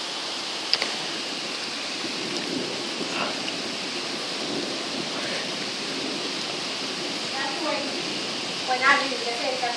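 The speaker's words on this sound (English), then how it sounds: "That's why we're seeing heavy thunder, which is amazing." Heavy rain pours in a dense, constant roar during a hurricane thunderstorm, with a low rumble of thunder beneath it and a few brief sharp sounds near the end.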